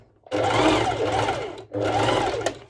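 A sewing machine stitching fabric for a twisted-knot cut-out crop top, running in two close bursts of fast mechanical whirring separated by a short pause, loud and near.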